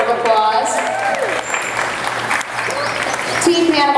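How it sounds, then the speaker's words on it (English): An aquarium show crowd applauds loudly as a presenter speaks over a microphone, clapping and cheers mixed with amplified talk, chirpy whistles from a performing animal, and a steady hum beneath. "Let's give Panama a big round of applause."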